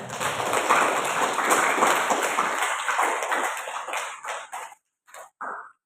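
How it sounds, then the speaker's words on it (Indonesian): An audience at a school counselling training session applauds in a dense, steady wash of clapping that tapers off into a few last claps before falling quiet. "tepuk tangan sekali lagi"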